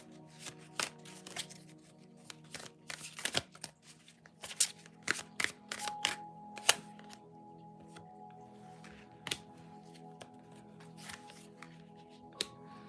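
Glow-in-the-dark neon moon oracle cards are shuffled close by, with uneven riffling bursts and sharp slaps of the deck over a low steady hum.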